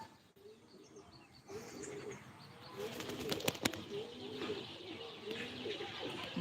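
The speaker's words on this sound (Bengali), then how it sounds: "এই পাঁচটা পায়রা কিছুক্ষণ আগে ছাড়লাম" Five released homing pigeons take flight in the morning, wingbeats flapping and fluttering close by alongside soft coos and chirps, growing busier midway with a burst of rapid clattering wing noise.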